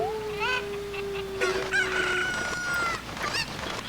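Chickens in Zelda: Ocarina of Time Master Quest crow and cluck in bright, high calls, one long crowing cry followed by overlapping squawks and clucks, fairly close over soft background game sounds.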